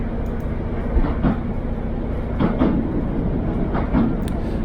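A train rumbles steadily across a thirteen-arch viaduct over the River Teme on the Heart of Wales Line, with a low drone and a faint rhythmic clatter of wheels over the track.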